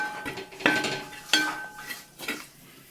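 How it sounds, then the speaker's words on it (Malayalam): Onions with spice powders are stirred in a pan, a spoon scraping and knocking against the metal in a few distinct strokes over a faint sizzle, close and with no talking. "പൊടികളൊക്കെ ഇത് ഇട്ടിട്ടുണ്ട് നന്നായിട്ട് നമുക്കിനി ഇളക്കി കൊടുക്കാം"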